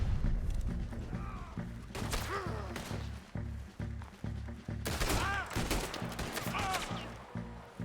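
Gunfire in Red Dead Redemption 2 cracks out in scattered volleys: several sharp shots come in two clusters, with ricochet-like whines, under a low background rumble and some faint voices.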